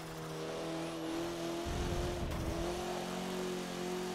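A Fiat driven in the racing video game Forza 7, with a steady engine drone holding nearly constant pitch and a brief rougher rumble midway, even and continuous with no talking.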